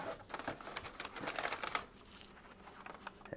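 Packing paper crinkles and rustles in dense, broadband bursts while a horror-themed subscription box is unboxed, close and fairly quiet, with no voices.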